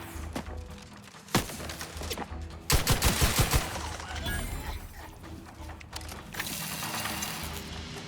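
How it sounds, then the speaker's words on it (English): Gunfire in The Outer Worlds 2 video game, sharp shots and a rapid burst of automatic fire amid clattering mechanical weapon noises, loud and close over a busy combat background. "Bullets are flying by."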